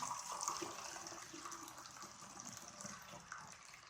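Homemade water kefir pours into a bottle with a continuous gushing, filling trickle, close and moderately quiet, steady for a few seconds.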